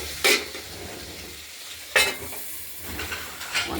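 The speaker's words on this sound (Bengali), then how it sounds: "আমরা ভাজা ভাজা করে নিচ্ছি" Potatoes and green beans frying in a pan, a steady low sizzle broken by a few sharp stirring scrapes near the start and again midway.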